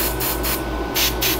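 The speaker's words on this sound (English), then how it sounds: "I'm going to spray the brush." Several short bursts from a spray bottle misting a makeup brush, quick close hissy pumps in an uneven rhythm, loud and with no talking.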